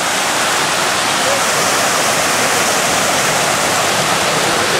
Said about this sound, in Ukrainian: Знову водичка фігачить.